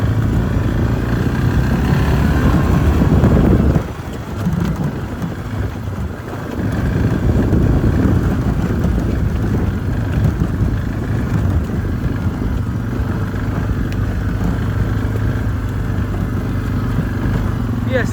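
Kawasaki Prairie 360 and Suzuki KingQuad 500 ATVs running through a mud test, their engines droning steadily and loudly with wind buffeting the microphone; the roar dips briefly partway through before building again.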